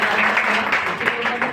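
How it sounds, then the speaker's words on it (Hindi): Applause from an audience at an event for the coaching-centre organisers and their team, a steady dense wash of clapping throughout. "उनके लिए बहुत बहुत तालियां बजाइए एक बार जोरदार"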